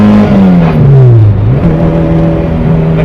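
A Honda Civic EK sedan with a swapped K24 engine revs hard into VTEC and climbs in pitch under acceleration, loud and close, with a brief dip and then a steady high drone.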